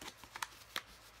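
A stack of new greeting cards riffled and shuffled by hand, a few quick papery flicks and snaps in a short close burst with no talking.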